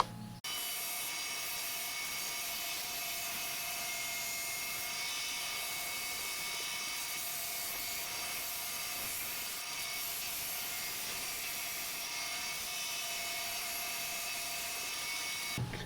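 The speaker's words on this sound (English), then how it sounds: "So now let's take this over and cut out the bandsaw." Bandsaw cutting through a piece of scrap wood, a steady continuous whine and rasp that runs loud and unbroken for the whole stretch with no talking.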